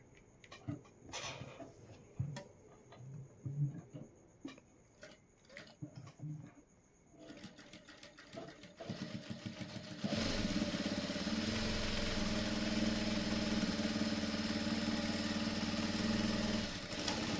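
A sewing machine stitches slowly around the corner of a designer blouse back neck. Soft handling clicks come first, then a steady motor whir settles in for the last several seconds.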